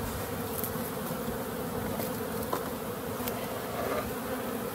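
Many honeybees buzz continuously and close by around a hive during a shook swarm, a dense, even drone with no talking.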